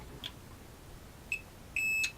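A multimeter in continuity mode gives short electronic beeps on a drop-damaged motherboard: a few brief chirps, then a sustained tone near the end, close and quiet, with no talk.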